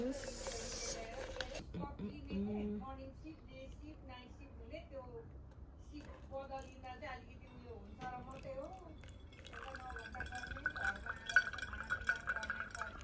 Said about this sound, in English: Coffee drip ASMR.